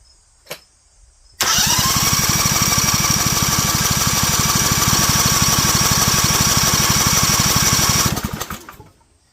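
A small DuroMax XP23HPE generator engine cranks rapidly and steadily for several seconds without firing, a buzzing rhythmic churn that never catches, then winds down.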